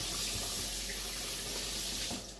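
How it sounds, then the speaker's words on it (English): A running water tap pours steadily into a sink as hands are washed, a close, even rush of water that tails off at the end. "let me wash my hands real quick"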